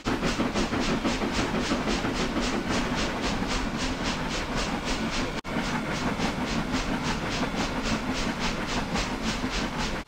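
A freight train hauls past with several locomotives in the lash-up, including Union Pacific Big Boy 4014, at night in Cincinnati; a loud, steady rolling roar with rapid rhythmic clickety-clack of wheels over rail joints, continuous throughout.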